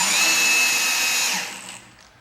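A power drill drives a screw into dry, unlubricated wood, a steady high whine with tonal overtones lasting over a second before dropping and tapering off as it stops, close and fairly loud with no talk.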